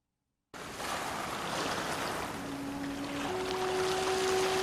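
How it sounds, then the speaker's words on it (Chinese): Ocean waves wash in as a steady, broad surf rush that fades up from silence and holds, with a thin sustained tone entering partway through; no voices. "开头进了一段海浪声"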